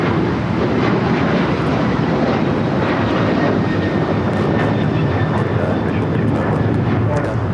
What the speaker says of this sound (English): This is Delta Airlines 508 taking off to Raleigh-Durham on the 737-900ER.